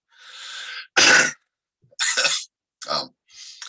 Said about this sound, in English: So if you hear me coughing,